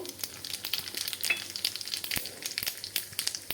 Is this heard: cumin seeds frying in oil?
yes